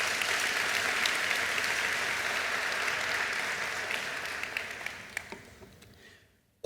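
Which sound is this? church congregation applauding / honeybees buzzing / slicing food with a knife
church congregation applauding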